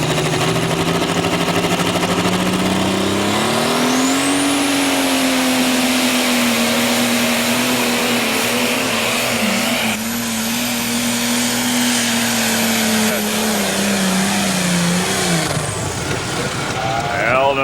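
Pro stock pulling tractor at an NTPA pull in Bowling Green, Ohio, its engine roaring loud and steady for the whole run, pitch climbing early then holding before dropping off near the end.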